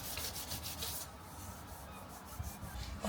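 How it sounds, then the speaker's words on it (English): Hand sanding plastic body filler on a car bumper, a steady close-up rasping rub with quicker strokes early on, then a continuous lower scrubbing. "So I'm just sanding this bit of plastic filler"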